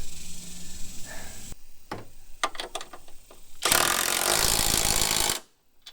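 A power tool tightens bolts on a 2017 Mustang GT, with sharp rattling bursts first and then a long, loud, steady whir before it cuts off abruptly.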